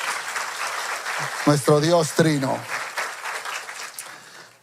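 A church congregation claps at a Spanish-language worship service, sustained applause that tapers off, with someone speaking over it.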